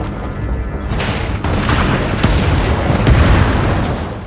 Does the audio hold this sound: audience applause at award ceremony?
no